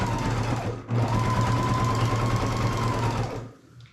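A Baby Lock Jazz II sewing machine stitching bulky quilt panels with batting, a loud, rapid, close mechanical chatter that runs steadily for a few seconds after a brief pause, then slows and stops.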